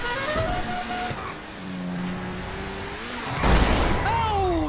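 A car slams into the player's car in Grand Theft Auto V, a sudden loud crunching burst that cuts through steady engine drone and revving, with voices talking over the game sounds.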